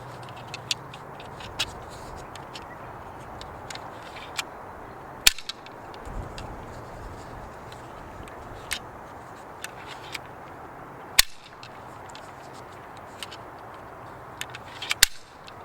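A Nerf N-Strike Slingstrike dart blaster fires three sharp, snappy shots spaced several seconds apart over a faint, quiet background.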